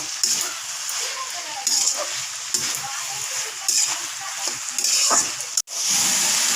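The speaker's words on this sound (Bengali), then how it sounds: "ছোট মাছগুলো সব একবারে দিয়ে দিচ্ছি, দিয়ে কিছু সময় নাড়াচাড়া করব" Small fish stirred in a hot pan for a spicy chorchori, with a continuous sizzle broken by repeated scraping bursts of a spatula, close and fairly loud, ending in a sudden cut.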